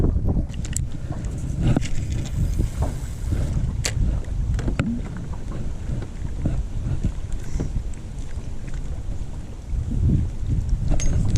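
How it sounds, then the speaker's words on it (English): Steady wind gusting across a clear lake cove, with soft lapping and buffeting on the microphone throughout, no voices. "It was a very windy cove just off of Main Lake"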